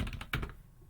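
Keys clatter on a computer keyboard while a command is entered to install a MySQL server on Ubuntu, a short burst of close, crisp clicks.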